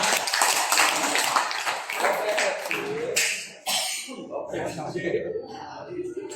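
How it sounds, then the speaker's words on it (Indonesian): An audience at a school teachers' presentation session claps hands in a dense burst that fades after a few seconds, followed by quieter shuffling, a cough and murmured voices. "Kita tepuk tangan bila Bapak."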